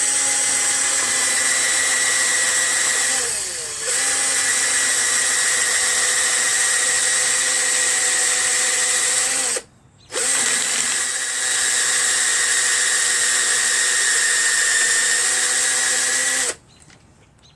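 Electric drill spinning a wire wheel to brush metal parts of a mechanical fuel pump from a Cub Cadet lawn tractor, a loud steady whine that dips briefly twice and stops near the end.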